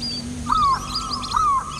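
Birds call at Van Vihar National Park: two clear, descending whistled notes about a second apart, with lighter chirps and twitters behind them in open, quiet air.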